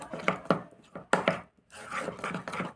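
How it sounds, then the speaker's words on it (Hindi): Ubtan face paste mixed in a bowl, with close, uneven scraping and tapping strokes of a spoon against the bowl, coming in quick bursts with a short pause. "इसे आप अच्छे से मिक्स कर लीजिए"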